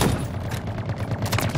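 Machine gun fire in the Halo Infinite multiplayer game, loud sustained rapid bursts of shots that fill the whole moment with a dense rattling barrage.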